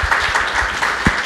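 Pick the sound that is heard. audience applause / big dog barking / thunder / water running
audience applause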